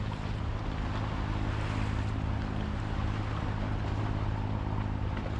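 Steady broadband rush of wind and water around a sailboat under way, a continuous close roar with a low hum underneath and no talk.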